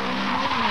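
Short, loud tire screech from a rally car skidding on a 1983 Belgian rally stage, a single sustained squeal.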